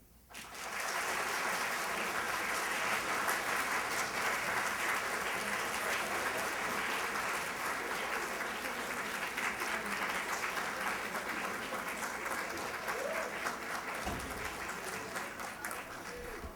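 Sustained audience applause fills a university hall after a congressman's address, a dense steady wash of many hands clapping that holds loud for the whole stretch with no talk over it.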